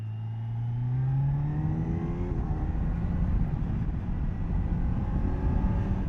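A 2025 Kawasaki Z900 naked motorcycle engine revs while riding, the pitch climbing steadily before a gear change and then settling into a sustained, loud drone over road and wind rush, with no talking.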